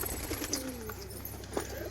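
Female pigeon cooing nearby, a soft low warbling coo rising and falling in the first second, faint against quiet background hiss with a small knock later.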